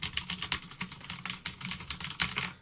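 Rapid, continuous typing on a computer keyboard, close and fairly quiet, with uneven bursts of key clicks and no voices.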